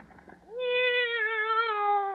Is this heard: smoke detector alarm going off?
no